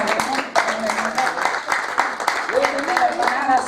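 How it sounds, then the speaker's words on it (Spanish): Church congregation applauding during a service, a lively burst of claps with voices mixed in throughout. "Vamos a darle un fuerte aplauso."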